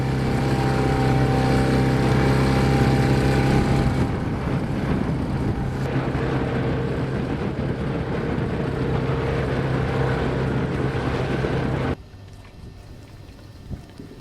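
A sailing boat motors into head seas, its engine droning loud and steady with wind and water rushing over it, then dropping abruptly to a quieter hum near the end.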